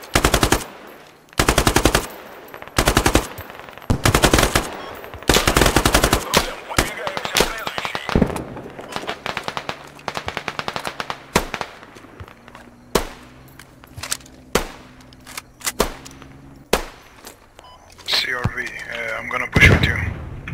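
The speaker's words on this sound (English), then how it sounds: "Keep shooting that direction, yeah." Long rattling bursts of RPK machine gun fire in the video game Squad, loud and close, with sharp separated strings of shots early on giving way to sparser single cracks and distant gunfire, while players talk over the radio.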